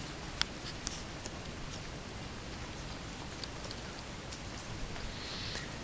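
Rain falling on a rainy day beside a beach hut, a soft, steady patter with occasional sharper drops landing on nearby surfaces, quiet and continuous.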